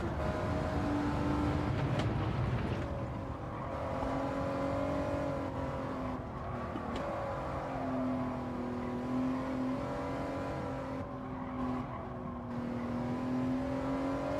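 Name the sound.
Honda NSX GT3 race car engine in a racing video game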